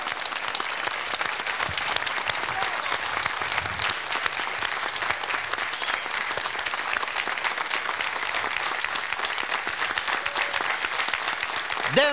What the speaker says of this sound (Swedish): Ja, det är värt en applåd, absolut.